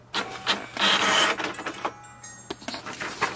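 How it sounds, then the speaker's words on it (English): An HP Envy Pro 6455 inkjet printer prints its information page, giving a close, busy run of mechanical whirring, clicks and paper-feed motion that rises and falls over a few seconds with no talking. "So here is the information button which we have to press once and it will print the page."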